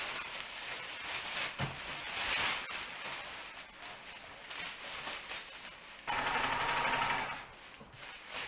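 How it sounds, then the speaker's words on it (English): A sewing machine stitches a long seam on a large homemade fabric dolphin, a fast, even hum that dips briefly and then picks up louder again near the end. "now I'm going to carry on with the rest of the seam"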